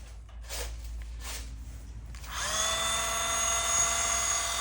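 After a few quiet handling noises, a small drill spins up into a steady, high-pitched whine as it bites slowly into stainless steel, boring a 2.5mm hole for a 3mm self-tapping screw.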